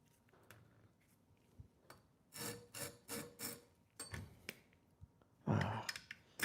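Knife blade drawn across a sharpener while matching the bevel to the cutting surface, several short rasping strokes in a quiet room, with a louder scrape near the end.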